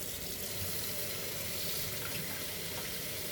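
Running tap water pours steadily as a Yorkie is bathed, a constant close splashing hiss with no talk over it.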